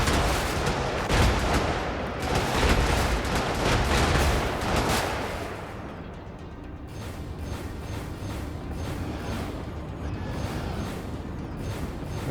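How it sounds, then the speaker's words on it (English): Gunfire rattles in the mech combat game Brigador: dense rapid bursts and mechanical clanking up close, easing into lighter scattered shots and machinery hum. "Who's shooting me?"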